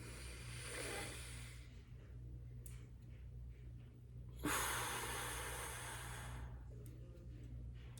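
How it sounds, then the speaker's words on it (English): Slow, deliberate breaths drawn in and let out as a calm breathing exercise, two long airy swells separated by quiet pauses, close and soft over a low steady hum, no talking. "I breathe in for 4 seconds. I hold for 4 seconds. I breathe out for 4 seconds."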